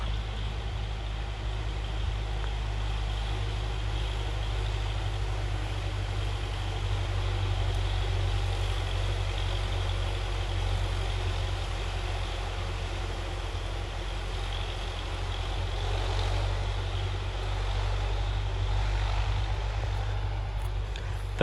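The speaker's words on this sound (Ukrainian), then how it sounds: "Трактор якийсь поїхав." A tractor drives through a forest, its low engine drone rumbling steadily at a distance, swelling slightly and fading without any talk over it.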